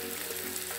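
Whole spices like cinnamon, black peppercorns and bay leaf fry in oil with cashews and green chilies, a brief steady sizzling hiss, close and alone.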